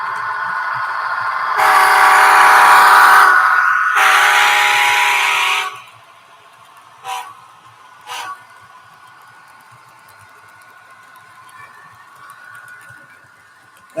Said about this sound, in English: Tom's Markling train layout, GF SNCF